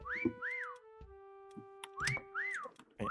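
A person whistles during a group game in a series of short rising-and-falling notes. There are a few quick bursts with brief pauses between them, loud and close, with no talking.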